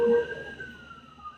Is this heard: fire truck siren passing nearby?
yes